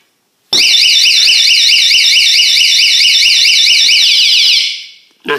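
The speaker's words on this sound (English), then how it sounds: "that alarm's going to go off." A Techko S184S door alarm mounted on a window sounds a loud, piercing electronic warble. It starts abruptly, holds steady for about four seconds, then cuts off, followed by a brief thump.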